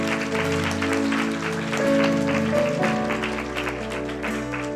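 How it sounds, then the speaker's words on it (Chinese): A church congregation clapping together during worship, a dense sustained patter of many hands mixed with voices and instrumental tones, fairly loud and continuous. "愿意的拍手把荣耀归给主。"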